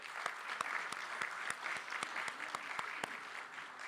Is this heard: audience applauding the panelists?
yes